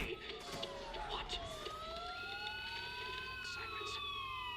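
Police sirens in the video game Batman Arkham Asylum wail with rising and falling tones that overlap and sweep for several seconds over a steady background hum.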